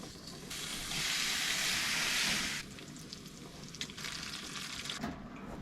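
Bacon fries in a pan at an off-grid mountain cabin, giving a steady close sizzle and hiss that swells loudly for a couple of seconds and then settles into a softer crackle.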